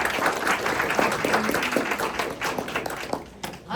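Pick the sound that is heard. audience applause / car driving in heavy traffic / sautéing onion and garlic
audience applause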